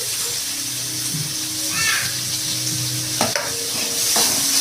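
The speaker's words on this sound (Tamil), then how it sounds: "வதங்கினதுக்கப்புறம் தக்காளி ஆட் பண்ணிக்கலாம்." Tomatoes frying in a pan with onion and mint, stirred with a utensil; a steady close sizzle runs throughout with a few scraping strokes near the end, and faint background noise.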